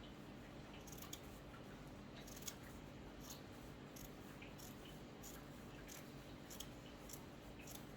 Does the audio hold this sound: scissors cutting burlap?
yes